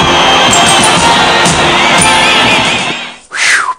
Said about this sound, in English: We've got this giant crowd of people out there